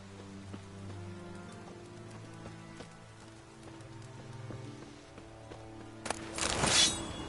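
Steady rain falls in The Witcher 3: Wild Hunt on PS4, a soft continuous patter under quiet sustained background tones, with a brief louder splashing burst near the end.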